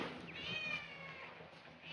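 A kitten at a temple gives a single drawn-out meow, fairly faint against quiet outdoor background.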